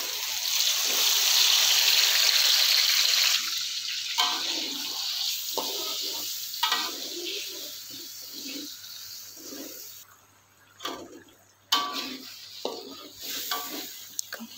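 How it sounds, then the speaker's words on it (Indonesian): Blended spice paste sautéing in hot oil in a wok, giving a broad, steady sizzle that fades and breaks into shorter bursts of frying and stirring scrapes toward the end, with no voices. "Setelah minyaknya panas, kita tumis bumbu yang udah diblender tadi."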